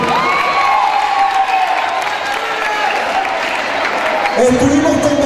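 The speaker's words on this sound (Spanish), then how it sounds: "Un aplauso para los que están haciendo periodismo." At a high school progressive students' event in Maracay, an audience claps and cheers for the students doing journalism, with a dense burst of applause and scattered shouts mixed with voices, swelling louder near the end.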